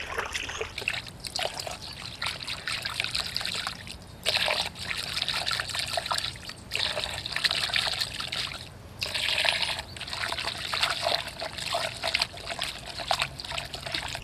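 Water poured slowly into a neem oil and soap solution, a faint intermittent trickling and splashing in bursts with brief pauses between pours.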